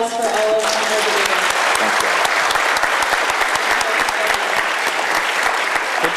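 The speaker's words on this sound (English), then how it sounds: "one more round of applause for all of our debaters" A debate audience gives a sustained round of applause for the debaters, dense steady clapping throughout with no talk over it.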